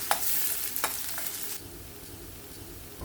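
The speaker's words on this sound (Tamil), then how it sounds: "சின்ன வெங்காயம், கீறின பச்சை மிளகாய், கொஞ்சம் கருவேப்பிலை சேர்த்து நல்லா வதக்கிக்கலாம்" Shallots, slit green chilies and curry leaves sauté in hot oil, giving a bright sizzle punctuated by a few quick stirring scrapes early on, then settling into a softer steady fry.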